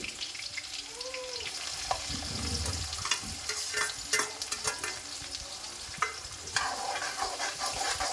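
Green chillies and onion frying in hot oil with whole spices in a pan, a close, steady crackling sizzle with occasional stirring scrapes and clatters over the top.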